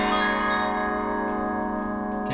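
Synthesized tubular bells made by physical modeling synthesis ring out as one sustained, shimmering metallic tone with many stacked partials, holding steady and fading slowly, close and clear.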